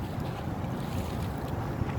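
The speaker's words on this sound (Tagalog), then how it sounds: "Nakaka-relax talaga pag nasa tabi ka ng dagat." Steady seaside ambience by a fishing spot, with continuous low wind rumble and surf washing in, a constant wash of noise with no talk.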